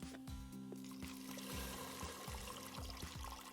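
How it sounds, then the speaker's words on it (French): Cold water pours into a pot of lentils being cooked, a soft steady running trickle heard close and fairly quiet, with light clinks against the pot. "Et toujours de l'eau froide pour la cuisson des lentilles."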